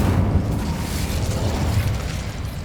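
An Incendio fire spell cast in Hogwarts Legacy, a dense rumbling whoosh of flame with heavy low-end burst, sustained and loud throughout.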